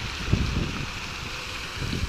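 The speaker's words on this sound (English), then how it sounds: "it's super windy" Strong wind blows outdoors by the water while fishing in Sugar Land, Texas, a steady rushing roar with low gusty buffeting against the microphone and no voices.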